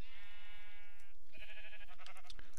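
Sheep in the Minecraft Pixelmon modpack let out two wavering, nasal bleats one after the other, loud and close, with no talking.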